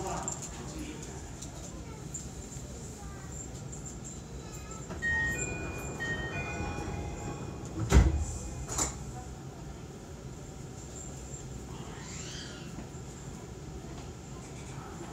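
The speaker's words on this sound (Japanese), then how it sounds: "閉まるドアご注意ください" Sliding doors of a Tsukuba Express TX-3000 series commuter train close at Kita-Senju station with one sharp thud mid-clip, amid steady cabin rumble, brief chime tones and a recorded announcement.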